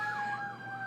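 A wailing siren sounds steadily outside, its tone sweeping up and down at moderate distance with faint traffic rumble beneath.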